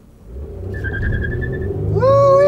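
A car peels out on a small drag strip, engine rising in a strained, revving whine with tire squeal building over a low rumble, close and loud.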